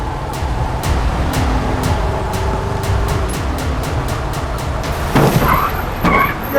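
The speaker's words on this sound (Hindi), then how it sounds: "ये वनवे में रॉन्ग साइड से क्यों आ रहा है ये इतनी स्पीड में?" A car tears the wrong way down a one-way street, its engine a steady roar with rapid ticking and a sharper rush of noise near the end.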